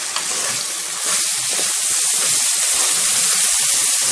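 Rice and vermicelli stir-fried together in a hot pan, giving a steady sizzling hiss with a sharper burst at the start, close and continuous throughout.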